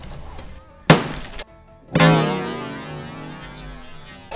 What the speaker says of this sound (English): Glass and a pry bar, what could go wrong?